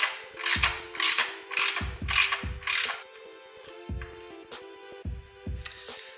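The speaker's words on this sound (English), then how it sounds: "I had to use my torque wrench and reverse to loosen that up" A torque wrench turned in reverse loosens a bolt on a Ducati Streetfighter V, making close, crisp ratcheting clicks in repeated strokes, each a quick run of pawl clicks followed by a short pause.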